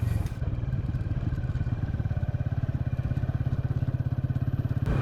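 Motorcycle riding along dirt village paths in rural Pakistan, close engine thumping in a fast, even rhythm with steady rumble and clatter, no voices.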